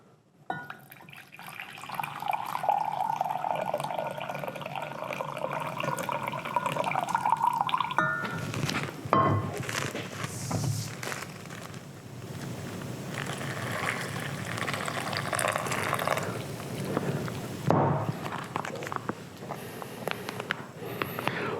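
One cup of boiling water pours and splashes steadily into a freeze-dried food container for several seconds, then continues as a fuller, rushing stream, with no voices.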